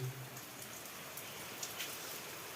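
Steady rain pours down in a dense, even hiss, with occasional louder drops standing out.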